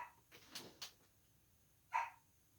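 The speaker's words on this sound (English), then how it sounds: "Hey, you can't bark during lecture." A dog indoors gives a few faint, short barks and yips, two quick ones close together and then a single louder bark after a pause.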